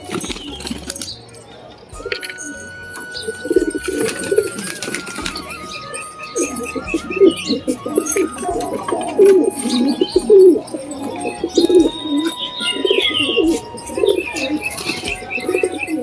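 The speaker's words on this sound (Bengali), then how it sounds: "ভালো কোয়ালিটির পায়রা আছে" Domestic pigeons coo in soft, repeated throaty rolls close by, with occasional chirps and brief wing flaps in the background.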